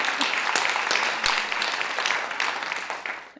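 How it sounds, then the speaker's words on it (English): A summit audience claps in a sustained round of applause, dense and fairly loud, gradually tapering toward the end with a brief fade at the close. "Let's give her a round of applause"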